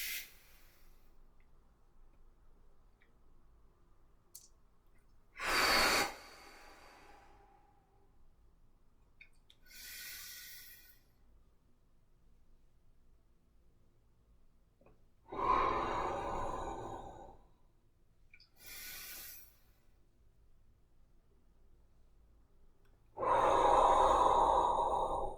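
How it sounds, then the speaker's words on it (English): Slow, deep inhalations during qigong practice, several distinct breaths spaced apart by quiet pauses, close and fairly loud, with no talking. "Deep breath in."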